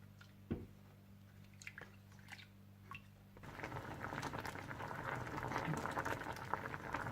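Plum chutney with sugar, red chilli powder, salt and garam masala simmering in a pot, quiet at first with a few soft pops, then a steady louder bubbling boil for the last half.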